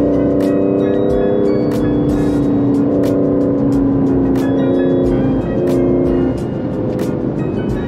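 An Aston Martin runs hard on the Shanghai Formula 1 circuit during a track day. A loud, steady engine drone fills the whole stretch, its pitch holding and shifting slightly as it pulls along the straight, with no talk.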